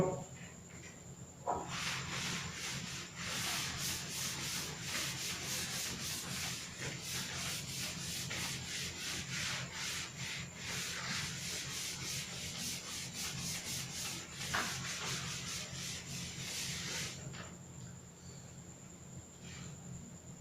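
Writing is rubbed out to erase it during a maths lesson, a continuous close dry scrubbing with a fast back-and-forth rasping rhythm lasting about fifteen seconds before stopping.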